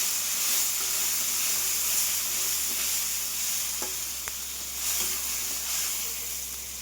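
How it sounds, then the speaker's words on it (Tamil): Garlic, onion and tomato sauté in a pan for a tamarind curry with brinjal, giving a loud, steady frying sizzle and hiss throughout, with a couple of brief clicks of stirring. "இது நல்லா வதங்கட்டும்"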